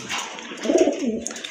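Large fancy pigeons cooing close by, one low, throaty coo rising in the middle of a short stretch of soft background noise.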